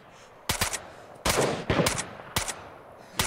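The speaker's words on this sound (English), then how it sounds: "There's gunshots coming from Oldfield's castle." Gunfire in the video game DayZ: several sharp shots in quick bursts, one at a time and in short clusters, fairly close and loud, with no talking over them.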